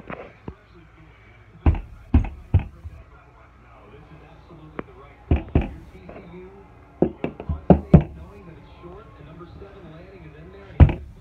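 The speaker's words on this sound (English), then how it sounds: "somebody freaking keeps knocking on the door." Sharp knocks on a door at a house come in scattered bursts of two to four raps, loud and close, with quiet stretches between and faint voices murmuring underneath.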